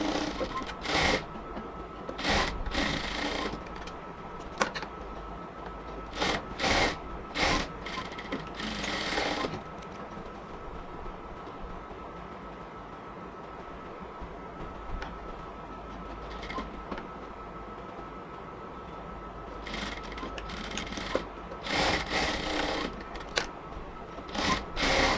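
A sewing machine stitches a half-inch shoulder seam on a yellow cotton dress, running in repeated short bursts with brief pauses and a steady mechanical whir, close up and with no voices.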